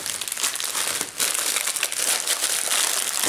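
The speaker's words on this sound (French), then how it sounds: "j'ai pas pris le truc, mais du papier bulle." Bubble wrap being crumpled and crinkled while a parcel is unpacked, a dense, continuous crackling rustle held close and loud throughout with only a brief dip partway.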